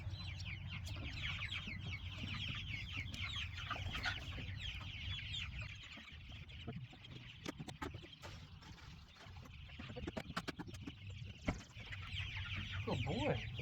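Flock of broiler chickens clucking and murmuring inside a chicken tractor on pasture, a busy close chorus of overlapping clucks with occasional thumps and rattles, and a voice faint in the background.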